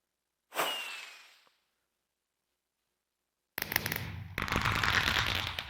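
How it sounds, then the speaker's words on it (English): Video game fireworks: a single rising whistle and burst that fades over about a second, then silence, followed by loud, dense crackling and booming bursts filling the last two seconds. "there's some fireworks here with way too much delay"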